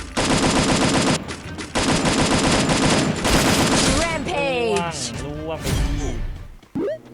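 Rapid automatic gunfire in the mobile game Garena Free Fire, loud close bursts of fast shots broken by short pauses, with someone talking over the later part.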